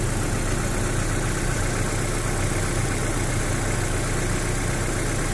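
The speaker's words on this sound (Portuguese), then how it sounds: "o motor tá ligado" A Chevrolet Blazer/S10 engine idles with a steady, continuous low rumble and hum, close and unchanging throughout, with no talking.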